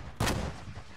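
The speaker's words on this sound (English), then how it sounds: "And then Rockets impacting here." A rocket impact strikes in the Squad military shooter, a single sudden loud blast with a short rumbling tail that fades quickly.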